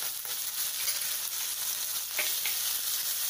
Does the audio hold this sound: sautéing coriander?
yes